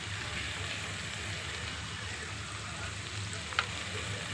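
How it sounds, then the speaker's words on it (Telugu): Egg and fish curry frying in a pan as chili powder is added, a steady soft sizzle heard close with one small clink near the end. "ఇప్పుడు తగినంత కారం వేసుకుంటున్నామండి"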